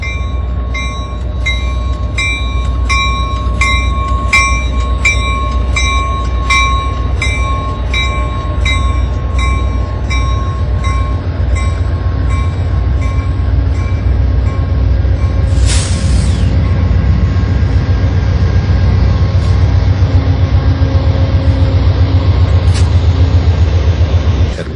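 Caltrain locomotive rolling along Amtrak's coast line between Santa Barbara and San Luis Obispo, a steady, loud rumble of train wheels and engine that continues throughout with high metallic tones and a brief screech partway through.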